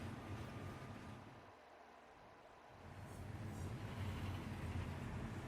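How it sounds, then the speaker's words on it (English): Steady rumbling train ride in the video game Final Fantasy XV, a continuous low rolling drone of the carriage that dips briefly and swells again, with no talk. "somewhere in some town, riding on a train."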